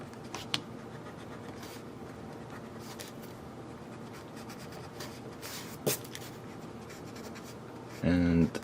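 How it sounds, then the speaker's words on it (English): Pencil lines being erased from a wooden surface for a kolrosing basket-weave pattern, a steady soft scratchy rubbing with brief louder scrubs near the end. "So if we erase the lines which guided us"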